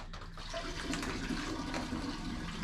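Water runs and swishes steadily while a bag is rinsed during home wine making with iron-rich well water, a continuous close splashing rush with no talk.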